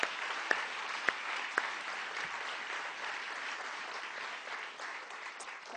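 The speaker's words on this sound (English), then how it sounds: "Can we just show a round of applause for Pam Lyerly?" An audience at a folk music festival applauds steadily for several seconds, a dense, even wash of clapping with a few sharper claps near the start and no speech over it.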